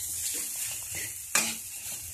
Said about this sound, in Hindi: आलू मटर सारी चटनी को मैं अच्छी तरह से भून ली हूँ।